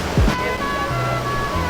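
The waterfall at Lata Kinjang rushes in a constant loud roar of falling water, with a low hum and a short thump rising over the steady wash.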